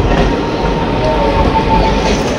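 Loud, steady rumble and rattle of the Ratnachal Express passenger train running on rails after leaving Duvvada station, heard from inside a crowded coach, with constant wheel noise and no talk.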